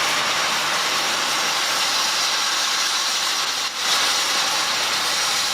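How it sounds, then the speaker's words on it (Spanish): Steam locomotive hauling restored wooden carriages on a heritage strawberry-train line, a steady loud hissing roar of steam and rolling stock that continues unbroken with one brief dip, no voices. "Con su locomotora a vapor y sus coches de madera restaurados, es la viva imagen de otra época."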